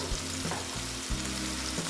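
Salted pieces of boal fish fry in oil in a pan for a mustard-poppy seed dish, giving a loud, close, continuous sizzle broken by a few low knocks as the pieces are moved.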